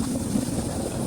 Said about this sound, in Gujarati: આવી ગઈ છે અમારી બોટ. આ બોટમાં અમે જશું હવે.